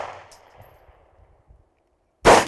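A handgun fires one sharp, loud shot at a shooting range, coming suddenly after a quiet stretch filled with a fading echo from an earlier shot.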